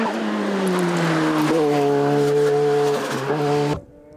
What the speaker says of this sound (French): Ronald Garcès, le champion de France, 2e division, et son Alpine A110